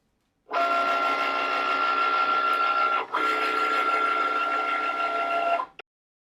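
A Cricut cutting machine slices a waterproof sticker sheet with a steady, loud whirring hum, broken by one brief pause midway, then stopping abruptly with a small click.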